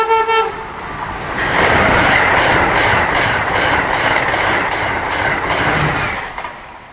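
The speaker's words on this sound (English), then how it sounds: "And Avelia Liberty from Amtrak is the first train we see." An Amtrak Avelia Liberty high-speed train roars past close by, with a brief horn at the start, rushing wheel noise and clatter, then fading away.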